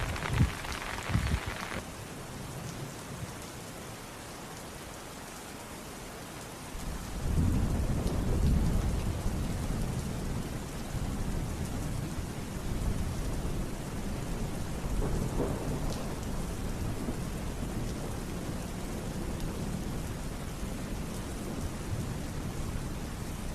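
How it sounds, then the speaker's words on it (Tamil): Heavy rain pours steadily during flooding in a village, with a loud thunder rumble swelling in after a few seconds and lingering, the downpour a constant dense hiss throughout. "இன்னும் மழை பெய்து கொண்டிருக்கின்றது."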